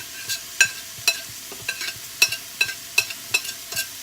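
Chopped green chillies and softened vegetables stir-frying in a pan for Punjabi-style chicken fried rice, with a rhythmic series of sharp scraping stirs over a steady low sizzle, close and clear with no talking.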